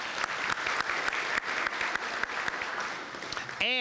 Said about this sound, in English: let's give a big round of applause to our ongoing sponsors